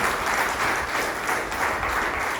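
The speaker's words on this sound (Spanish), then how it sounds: "démosle un aplauso al Señor por ese testimonio" Church congregation breaking into applause after a testimony, a dense, steady roar of many hands clapping at once, loud and continuous from start to finish.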